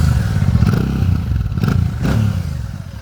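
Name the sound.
motorcycle with sidecar starting up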